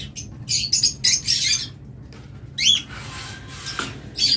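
Pet birds for sale, such as lovebirds, budgerigars, cockatiels and java sparrows, give short bright chirps and squawks in quick clusters, close and fairly loud over a low room hum.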